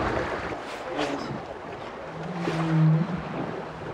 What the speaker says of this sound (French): ce que vous entendez, c'est le chant propre à une baleine